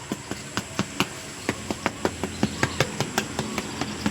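Crispy roast pig skin on a lechon being stirred, giving a string of sharp, evenly spaced crackling ticks roughly every quarter second, fairly close and distinct over a faint steady background hiss.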